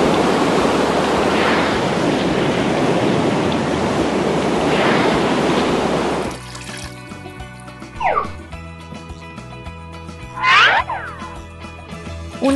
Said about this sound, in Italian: Una cascata. Questa è una cascata vera.